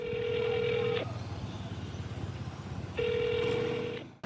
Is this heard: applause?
no